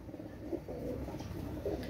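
Pakistani pigeons coo in low, soft murmurs, close and continuous over a faint background with no talking.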